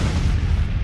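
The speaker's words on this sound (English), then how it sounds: "Really need to nerf the artillery FX here" Artillery fire in the Civil War strategy game Grand Tactician: a dense, continuous low rumble of distant cannon booms blending into one rolling roar for under a second, no voices.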